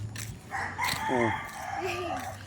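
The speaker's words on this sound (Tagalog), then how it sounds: "Ang daming manok." A rooster crows once, fairly close, amid roadside chickens, over the hum of a moving vehicle and some background chatter.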